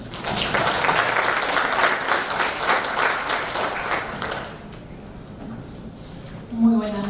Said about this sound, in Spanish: a quien recibimos con un fuerte aplauso